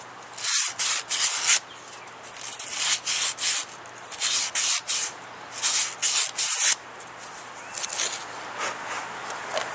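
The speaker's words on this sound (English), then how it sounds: "I just take a piece of, I think that's 180 grit, it doesn't really matter, and just break that sharp edge." Sharp edge of a wood-turned napkin ring being broken by hand with 180 grit sandpaper, close rapid rubbing strokes in short repeated bursts with brief pauses between.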